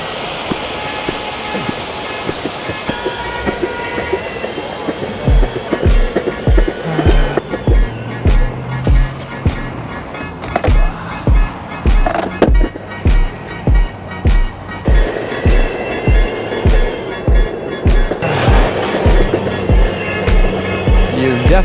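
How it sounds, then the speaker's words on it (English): Small hard 80mm wheels of a Boosted Mini X electric skateboard roll loudly over sidewalk, clacking in a regular rhythm at each pavement seam over a continuous gritty rumble, close and prominent. "even though this boosted board has nice big 80mm wheels, they still don't feel great going over sidewalks. And they're loud."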